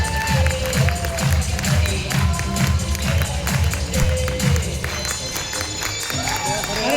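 A seminar crowd in Delhi claps together, a dense rhythmic burst of many hands that runs steadily the whole time, with cheering and voices mixed in under the clapping.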